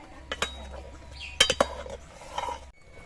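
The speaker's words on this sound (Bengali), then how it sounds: "এবার তেলটা দিয়ে নেড়ে চেড়ে মিশিয়ে নিতে হবে" A utensil stirring khichuri with oil in a pot, giving a few sharp metallic clinks and scrapes against the pot over a low background hum.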